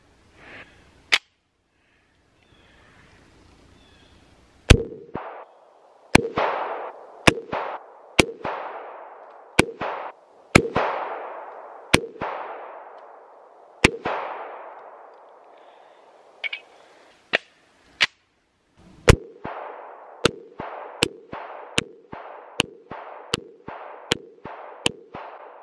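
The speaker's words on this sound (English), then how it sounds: "I am not good at shooting a handgun" Sig Sauer Emperor Scorpion handgun fired at an outdoor target, sharp loud reports spaced irregularly, then a faster string of shots near the end, each with a ringing decay.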